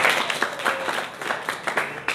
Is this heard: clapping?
yes